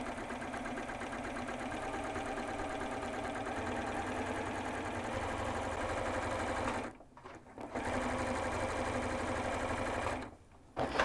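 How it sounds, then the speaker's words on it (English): Sewing machine running a zigzag stitch down the cut edge of fabric, a steady close whirring drone with two brief pauses where the motor stops before restarting. "pop your piece of fabric into the machine and zigzag stitch all the way down the cut edge"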